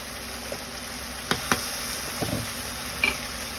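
Chili paste goes into a pan of chicken frying over a wood fire, a soft steady sizzle and crackle with a few sharp knocks of a spoon against the pan.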